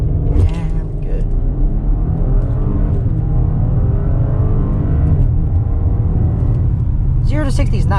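A 2020 Porsche Cayenne V6 in sport mode launches from a brake-loaded converter, its engine a loud steady rumble building under acceleration throughout, with a voice speaking over it.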